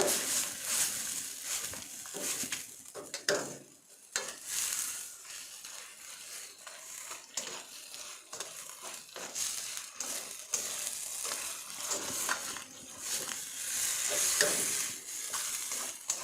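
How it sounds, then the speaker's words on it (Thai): Continuous sizzling and frying of salmon and glass noodles in a hot pan, with scraping and stirring strokes from a utensil repeating throughout. "ผัดให้แห้งหน่อย"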